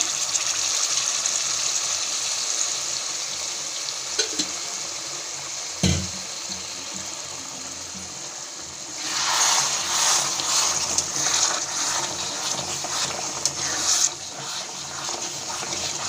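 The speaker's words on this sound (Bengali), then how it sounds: "আমরা এখানে উষ্ণ গরম জল দিচ্ছিলাম।" Warm water poured into a pan of sizzling chicken for Bengali dahi chicken, a steady gushing splash rising for several seconds after quieter background sounds, with a brief thud beforehand.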